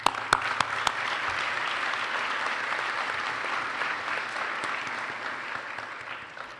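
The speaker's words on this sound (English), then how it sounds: "that deserves a round of applause for you" A large commencement audience claps at length, dense sustained applause with a few sharp claps at the start, gradually tapering off.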